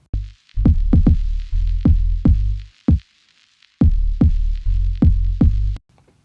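Punchy kick drum hits locked with a deep, sustained bass line in a steady groove, with a short gap midway and a low tail at the end.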